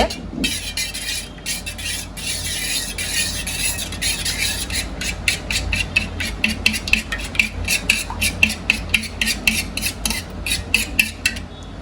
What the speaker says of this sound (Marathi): अंड्याला आता चांगलं मी फेटून घेते